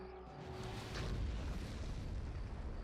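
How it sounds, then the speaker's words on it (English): Bombing-run explosions in the space strategy game Star Wars: Empire at War, a sustained, loud rumbling blast with deep booming low end that swells around the one-second mark and keeps roaring steadily to the end. "Okay, bombing run 1."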